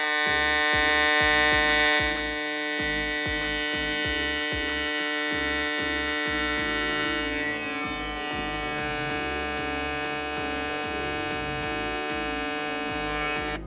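A BRD Clip G27 Vector hair trimmer runs up close with a steady, loud electric buzz and rich humming overtones, holding constant throughout with a slight shift in tone partway through.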